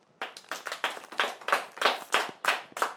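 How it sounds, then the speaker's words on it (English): A classroom of pupils claps for a girl who answered a math question, about ten distinct sharp claps in a steady rhythm, fairly close and moderately loud, no talking over them. "Clap for her."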